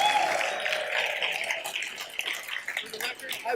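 An audience applauds and cheers for a volunteer, producing a steady, dense wash of clapping that holds at moderate loudness throughout and thins slightly toward the end.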